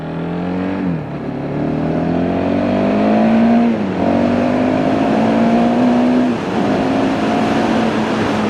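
A KTM 690 Duke motorcycle engine pulls hard through the gears, its loud, close note climbing in pitch, dipping briefly at each of three shifts, then rising again.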